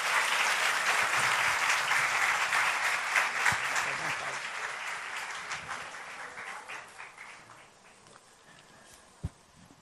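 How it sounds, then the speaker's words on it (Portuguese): An audience at a lecture event bursts into loud applause that gradually thins out into scattered claps, with a sharp knock near the end. "Por favor, com uma salva de palmas."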